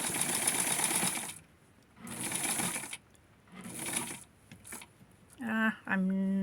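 A sewing machine stitches lace panties for a Tutti doll, running in three loud bursts of steady whirring separated by pauses, then a few quick mechanical clicks and two short high whines near the end, close up with no talking.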